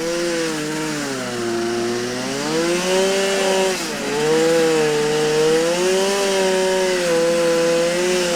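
A chainsaw cuts a bed into a fallen old tree at a logging site, its engine droning loud and close with rising and falling pitch as the chain bites into the wood, with no talk.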